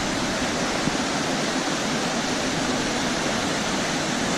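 The Handi Khola river in Sindhupalchok flowing, a steady broadband rush of water that holds unbroken throughout, with no voices present.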